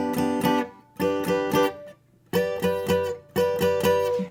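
Guitar plays a sequence of chord shapes moving up the neck, short groups of strummed chords separated by brief pauses, close and clear with no talk.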